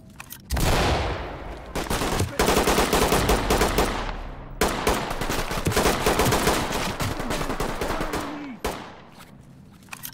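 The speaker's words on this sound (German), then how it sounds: "Heftiger Beschuss." Heavy gunfire in the tactical shooter game Ready or Not: loud, sustained bursts of automatic and rapid shots with brief pauses between volleys, close and dominant.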